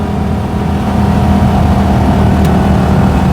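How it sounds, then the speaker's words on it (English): The single-cylinder engine of a 1959 BMW Isetta 300 microcar drones steadily at cruising speed, a loud, even hum with road and wind noise from inside the tiny cabin. "the engine, just that single cylinder, actually smooths down quite a lot once you're at cruising speed"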